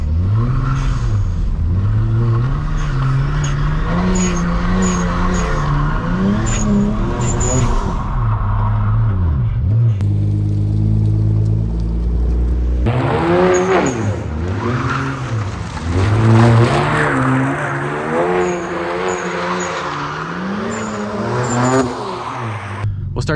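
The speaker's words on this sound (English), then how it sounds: "we'll just turn the wheels, and we're just gonna give it a little bit of juice" A BMW 335i with an automatic transmission revs hard and slides sideways, its engine rising and falling in repeated surges with tire squeal mixed in, while someone talks over the loud, close engine noise.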